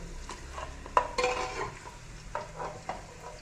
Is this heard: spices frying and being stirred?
yes